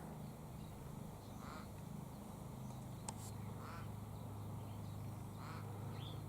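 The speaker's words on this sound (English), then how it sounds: "That's the sound of a raven." A raven gives a few harsh, croaking calls, spaced a second or two apart. The calls are distant and faint over a steady low background hum.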